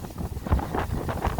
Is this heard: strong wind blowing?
yes